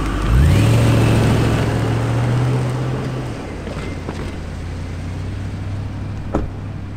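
Toyota Land Cruiser Amazon SUV pulling away in a park, its engine rising in pitch as it accelerates loudly and close, then settling into a steady drone as it moves off.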